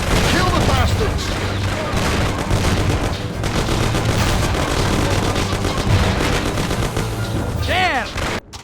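Sustained gunfire erupts in a shootout from the video game Mafia, dense loud bursts of shots and booms filling the whole stretch, with shouted voices mixed in.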